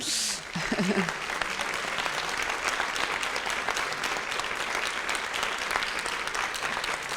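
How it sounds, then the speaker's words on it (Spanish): A room full of people at an academic panel talk claps steadily and warmly, sustained applause after a brief voice at the start. "Por favor, démosles un aplauso."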